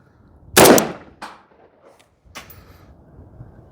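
A 5.56 rifle fires a single loud semi-automatic shot, followed by a sharper short report and a further crack, with casings ejecting; brief bursts separated by near silence, no talking.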